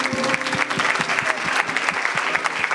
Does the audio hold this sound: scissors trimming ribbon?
no